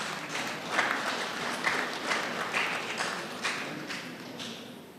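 An audience at an annual delegates meeting applauds an award recipient from a mission hospital, a sustained wash of many hands clapping at moderate loudness, with a few louder claps standing out.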